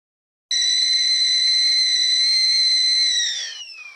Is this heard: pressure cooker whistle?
yes